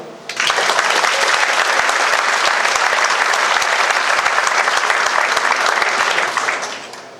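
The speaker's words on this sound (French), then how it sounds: "la salle est comble, merci, vous pouvez vous applaudir." A packed hall at a French fashion designers' show bursts into dense, steady applause that holds strong for about six seconds before tapering off, with no talking.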